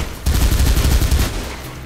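Rapid suppressing gunfire from a first-person shooter scene in the video game Mirror's Edge: a loud, dense burst of automatic shots that starts abruptly and rattles on before tapering off.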